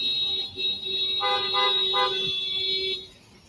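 Car horns honking on a street: several steady sustained toots overlap, with brief louder bursts in the middle, then they cut off near the end, with no talk over them.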